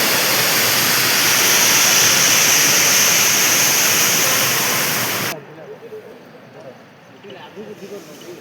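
Duduma waterfall roars as a loud, steady rush of falling water that cuts off abruptly after about five seconds, leaving quieter background sound.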